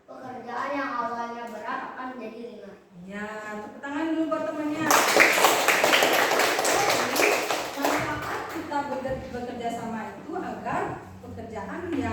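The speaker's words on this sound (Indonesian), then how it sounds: "tepuk tangan dulu buat temannya." A group of children claps in a burst of applause lasting several seconds, with talking before and after it.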